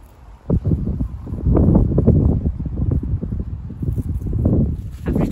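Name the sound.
wind blowing on microphone outdoors in garden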